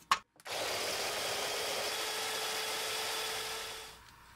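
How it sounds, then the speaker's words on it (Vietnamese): Electric grinder whirring steadily for about four seconds as it purees shallots and garlic, starting abruptly after a brief knock and winding down at the end, close and moderately loud. "Hành tím còn lại này khoảng 15g và thêm 15g tỏi mình cho hết vô cối này để xay nhuyễn."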